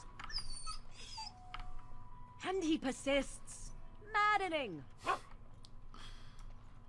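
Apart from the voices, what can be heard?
dog whimpering and barking in Dragon Age: Origins video game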